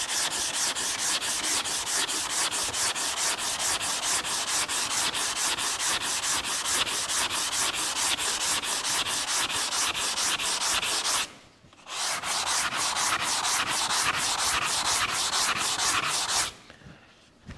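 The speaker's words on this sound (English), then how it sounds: "when you're sanding versus you're trying to block sand with a flat, straight block across a" Flat sanding block rubbed back and forth over body filler on a Dodge Challenger panel during restoration, a steady rhythmic rasping scrape of rapid strokes that pauses briefly twice, heard alone and close.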